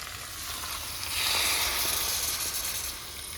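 Crab masala fries in a pan, a dense continuous sizzle and hiss that swells slightly partway through and holds steady, close and fairly loud, with no talking.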